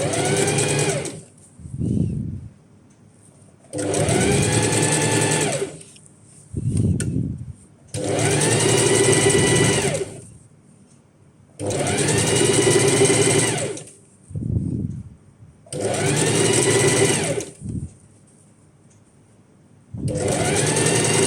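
A sewing machine stitches a clothing alteration close by, running in repeated bursts of rapid whirring lasting a few seconds each, separated by brief pauses with soft low clunks between runs.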